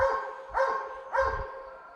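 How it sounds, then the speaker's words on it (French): Hunting dogs on a driven wild boar hunt bark at a boar held at bay, three sharp, echoing barks spaced about half a second apart, fairly near and ringing out over a quiet woodland background. "Et là les chiens prennent un sanglier au ferme."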